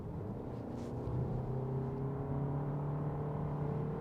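A 2021 VW Arteon R Line accelerating, heard from inside as a steady, loud engine drone with a gradually rising pitch and a low rumble underneath, with no talking.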